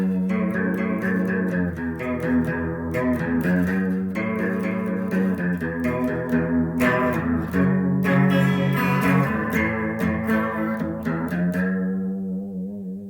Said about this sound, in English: And then here's the chorus pedal.